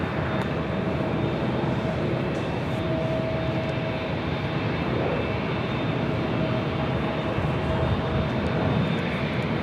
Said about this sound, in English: Alaska Airlines Flight 1282 coming in from Portland, 737-900 AR, just 5 minutes out,